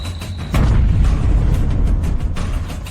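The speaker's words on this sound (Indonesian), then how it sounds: "Jangan hirup kabut kuning itu, akar naganya meledak." Dragon root bursting apart, a sudden deep boom that swells into a heavy roaring rumble and holds loud for a couple of seconds before easing, with no voices.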